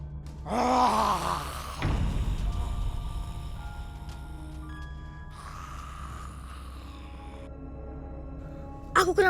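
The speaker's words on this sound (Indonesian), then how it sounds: "Suara genderuwo." A deep groaning, moaning voice, presented as the call of a genderuwo ghost, swells loudly near the start, then lapses into a quieter drawn-out tail with a second fainter moan and a sharp burst at the very end.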